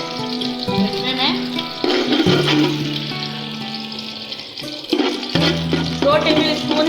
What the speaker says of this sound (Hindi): लहसुन का पेस्ट ऐड किया, ये थोड़ा फ्राई हो जाए